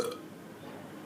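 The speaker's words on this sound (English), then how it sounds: "Burp." A single soft, slow, deliberate burp is made to release tension, brief and close with no other sound around it.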